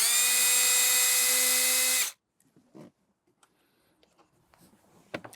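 A power tool whirs loudly and steadily for about two seconds while removing 7mm bolts beneath a car's lowered glove box, then cuts off, leaving faint clicks and handling sounds.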